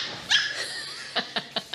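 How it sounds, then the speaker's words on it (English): A small dog whimpers and barks, with one high yelp followed by four short, evenly spaced barks over a steady background hiss. "Am I sitting here with a dog?"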